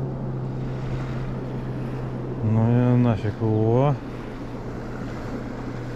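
Waves wash against the shore of the Oka River while someone stands in the water fishing, making a steady rushing noise mixed with wind, and someone speaks briefly over it.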